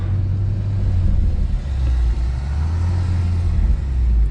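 A BMW M140i engine in Sport Plus mode, driven at night, sends out a loud, steady low rumble heard from inside the car, with no speech.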